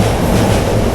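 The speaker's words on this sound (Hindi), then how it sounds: "Indian train" An Indian train rumbles past close by, a dense continuous roar of rolling wagons with rhythmic clickety-clack from the wheels, steady and loud throughout with no voices.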